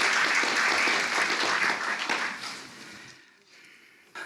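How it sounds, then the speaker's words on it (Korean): Audience applause welcoming a speaker at a university graduation ceremony in a hall, a broad sustained wash of many hands that fades out over a few seconds. "큰 박수로"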